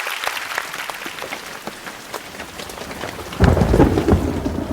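Heavy rain pours steadily, and a loud rumble of thunder swells in near the end, all without any voices.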